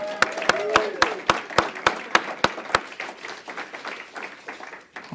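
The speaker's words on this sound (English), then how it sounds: "Let's give Seth another round of applause" Audience applause for Seth, opening with a run of sharp, evenly spaced claps that give way to looser, softer clapping from the room, with a faint voice or two beneath.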